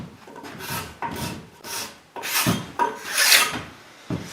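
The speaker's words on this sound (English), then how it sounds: "finishing a 6x6 with a card scraper that I'm going to put outside?" Card scraper drawn along a wooden 6x6 post in about seven separate rasping strokes, each a close, dry scrape that swells and fades with short pauses between.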